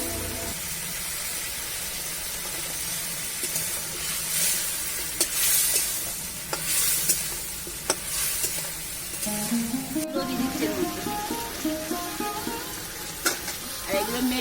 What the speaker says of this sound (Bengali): ঠ্যাংগুলো দিয়ে দেবো এর মধ্যে, মশলা কষানোর মধ্যে।